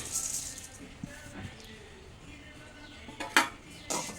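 Fennel seeds dry-roasting in a pan for homemade curry masala, heard as soft scattered rattles and light scrapes of a utensil against metal, with one sharper clatter near the end and a quiet background.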